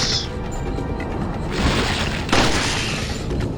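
Gunfire and explosive blasts in the video game Resident Evil 4, a dense rumbling mix with a couple of sharper booms partway through, loud and continuous.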